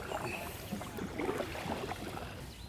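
A kayak paddled on Half Moon Lake in Eau Claire, Wisconsin, with faint, soft water swishes and drips over a steady breezy background and no talking.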